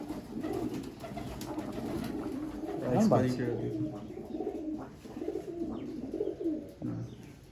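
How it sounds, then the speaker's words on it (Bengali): Pigeons in a loft in Baruipur coo softly and repeatedly close by, with one clearer call in the middle, while someone talks over them. "একদম ছোট সাইজের পায়রা দেখো"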